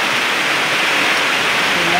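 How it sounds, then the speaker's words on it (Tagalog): Heavy rain pours down steadily as a dense, even hiss, close and constant for the whole stretch with no breaks. "Lumakas ng ulan"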